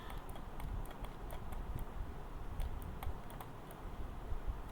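Faint, quick clicks and taps at a computer, like a mouse and keyboard used while working through Windows settings, scattered irregularly over a low background hum.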